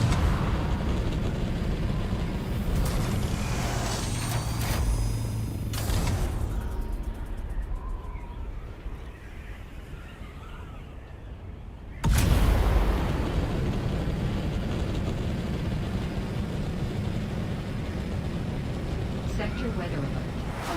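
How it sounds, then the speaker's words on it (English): A sandworm in the video game Dune: Awakening, a loud, deep rolling rumble that surges midway and keeps booming under the game sounds, with a voice talking over it. "That's just a worm."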